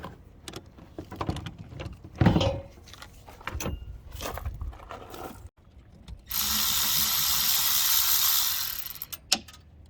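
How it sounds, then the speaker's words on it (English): Clicking and ratcheting as 7/16 bolts come off a CAT C-12 diesel engine's coolant system, with metallic clanks, then a steady loud whirring burst of a power tool spinning for several seconds. "So we're just gonna take the bolts off"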